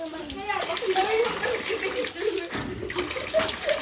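Water flowing and splashing in a stream beside a village, with a steady wash of running water and children's voices and talk over it.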